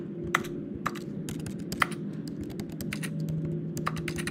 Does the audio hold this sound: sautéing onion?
no